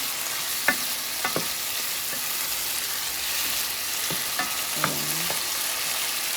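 Garlic and tomatoes fry for bagoong, giving a steady hissing sizzle with a handful of scattered clicks and scrapes from stirring the pan.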